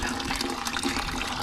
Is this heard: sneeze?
no